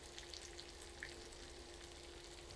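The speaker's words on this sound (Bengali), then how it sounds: "আলুটাকে আমি প্রায় 7-8 মিনিট ভেজে নিব এইভাবে।" Thinly sliced potatoes fry in a pan with a faint, even sizzle and a few soft pops, low in level and continuous, with no speech.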